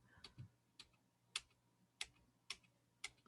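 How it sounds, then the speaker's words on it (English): Keys pressed on a computer keyboard, about six sharp, separate clicks at a slow, fairly even pace, faint in a quiet room. "Hitting Control Delete on my keyboard."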